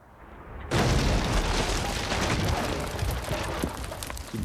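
A bomb explosion in the video game Kingdom Come: Deliverance 2 bursts in suddenly after a quiet start, a loud, broad roar that holds steady and slowly trails off over several seconds.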